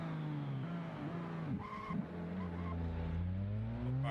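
Drift car skidding and revving through a tandem battle at a DMVC 2022 event, a sustained engine drone with rising and falling pitch as the throttle works, tire squeal swelling in the middle, loud and close throughout.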